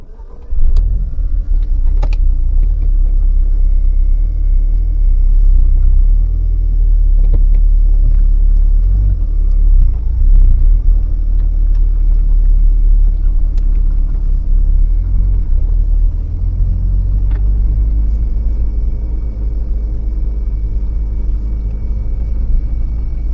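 A car with a rebuilt 1.8 20VT engine drives along a road on a test run with a loud, steady low engine rumble and road noise, no voices, the drone shifting slightly near the end.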